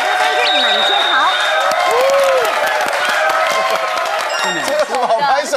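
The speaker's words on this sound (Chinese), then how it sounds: "这有什么好拍手的啦？" A television studio audience claps and cheers to welcome the start of a Taiwanese talk show, a loud, steady wash of applause mixed with crowd voices throughout.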